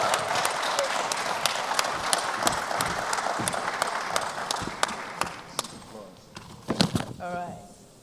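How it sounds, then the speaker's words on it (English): Audience applause welcoming a speaker at a technology week event, a steady patter of clapping with sharp individual claps standing out, thinning toward the end as scattered claps and a voice remain. "Please, a round of applause as we welcome Effie."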